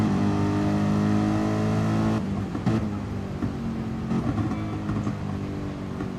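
GT race car engine held gently on the throttle in a sim racing game at the Red Bull Ring in Austria, a steady loud droning tone that eases slightly partway through, with no talking.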